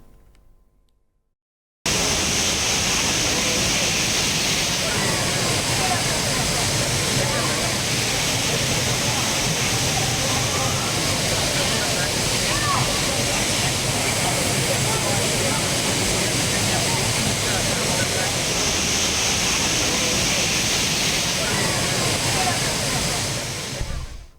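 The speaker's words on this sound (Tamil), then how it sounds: "இந்த அருவியில் குளித்து ஆனந்த குளியல் போடக்கூடிய அந்த காட்சிகள்லாம் வெளியாயிருக்கு" Courtallam waterfalls with people bathing beneath them, heard as a loud, steady, broadband roar of falling water that begins abruptly after a brief quiet moment and holds unbroken throughout.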